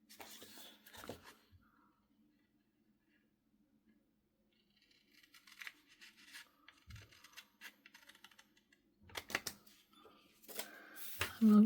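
Scissors fuzzy-cutting paper, making scattered light snips and rustles close by, sparse at first and then busier, with handling noise and brief movement sounds.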